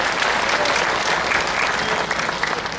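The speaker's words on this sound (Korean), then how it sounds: "주님 앞에 영광의 박수 한번 돌려드립니다" A church congregation claps together in steady, dense applause that fills the room at an even level from start to finish.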